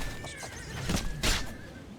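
A horse in the video game Oblivion gives a sharp, close whinny with a few hoof clops, short and loud against a quiet background.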